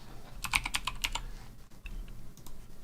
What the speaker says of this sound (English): I'm typing on the wrong key.